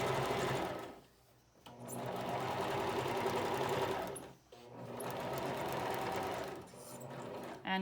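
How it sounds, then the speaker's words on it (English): A sewing machine straight-stitches and back-stitches a fabric face mask, its close, steady motor-driven needle clatter running in three bursts separated by short pauses. "So again, straight stitch, so sew a couple stitches. I'm gonna back stitch, and then I'm gonna keep sewing."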